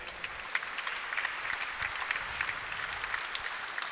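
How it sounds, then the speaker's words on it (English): Audience applause at an indoor archery national championship, a sustained patter of clapping hands across a hall, moderately distant and even, with a faint voice underneath. "give him a big round of applause"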